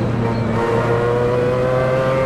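A Mazda 787B race car engine in Assetto Corsa holds a steady, loud, dense drone with layered harmonic tones, a slight pitch shift partway through, and continuous close running with no talking.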